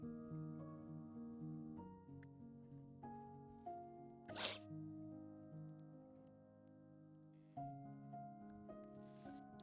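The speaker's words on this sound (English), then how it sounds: "I need to sneeze." A single sudden sneeze bursts out midway, brief and fairly close, over a soft steady bed of sustained musical tones.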